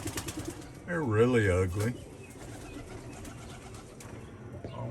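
Squab pigeon babies about 8 to 10 days old in a small brooder box give a short wavering cooing squeal close by, with a person speaking quietly around it.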